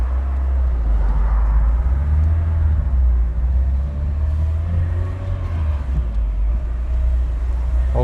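A Great Wall Steed Chinese pickup is driven along the road, with a heavy, steady low rumble from inside the cab and a faint whirring, bearing-like tone under it. Brief talk is heard.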